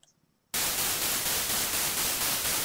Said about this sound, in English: when you're playing the white noise